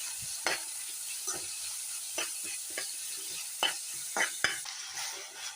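Jackfruit sambar ingredients with curry leaves are sautéed in a pan: a soft background sizzle broken by a series of short spatula scrapes and taps at irregular intervals, close and fairly quiet, with nobody speaking.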